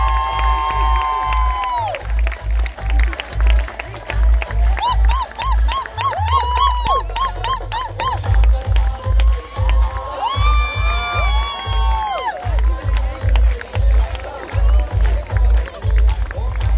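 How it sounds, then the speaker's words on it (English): At a fashion show presenting models from Karnataka, an audience cheers, whoops and claps continuously, with shouts rising and falling over steady music as the crowd noise swells. "Huge round of applause."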